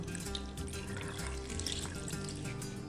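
A steady stream of water pours and splashes into a blender holding roasted tomatoes, onion and chiles, a soft continuous gurgle at close range and low volume.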